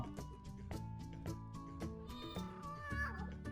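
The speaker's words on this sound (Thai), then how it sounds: "แล้วก็อันที่ 3 ขอเป็นเสียงแมว" A downloaded cat sound effect plays a series of clear, tonal meows in quick succession, some rising and wavering like a plaintive caterwaul, fairly close and alone without speech.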